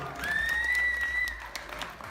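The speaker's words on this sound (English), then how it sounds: "Let's give her a round of applause." Audience at a drag show after-party applauds steadily in a brief burst of clapping, with a whistle sounding over it and the clapping thinning out near the end.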